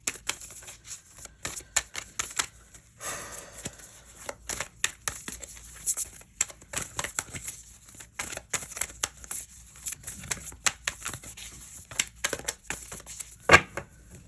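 Tarot cards shuffled and drawn by hand for an Aquarius reading, a string of short crisp riffles, taps and papery flicks close to the listener, with one sharper snap near the end and no voices.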